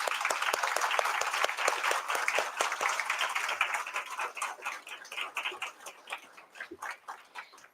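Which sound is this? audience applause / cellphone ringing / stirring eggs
audience applause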